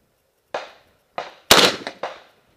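AK-pattern rifle fitted with a muzzle brake and recoil reducer fired at a range, four sharp, loud reports with the third the biggest and trailing into a quick echo, spaced about half a second apart.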